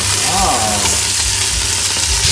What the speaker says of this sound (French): On plonge les écrevisses qu'on a pêchées tout à l'heure dans une huile très très chaude.